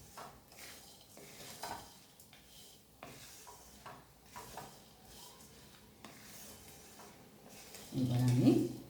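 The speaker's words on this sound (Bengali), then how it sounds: "চাট মশলা দিয়েছি, ধনেপাতা সব কিছু তোমার দিয়ে এই চিড়ে বাদাম এই মটরের সঙ্গে ভালো করে মিশিয়ে নিতে হবে।" Poha, green peas and groundnuts are mixed with chaat masala and coriander in a bowl, with faint scraping and soft clinks from the mixing. A louder rustling burst comes right at the end.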